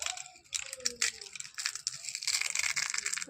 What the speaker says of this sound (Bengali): শুকিয়ে গেছে, একদম মচমচ করে সব ভেঙে যাচ্ছে।